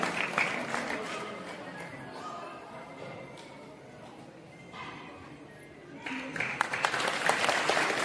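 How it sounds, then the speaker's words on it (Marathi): An audience at a grand felicitation ceremony in Jalna breaks into applause, a dense patter of clapping that thins and fades midway, then swells loudly again toward the end. "सर्वांनी टाळ्या वाजवून त्यांचं स्वागत करावं"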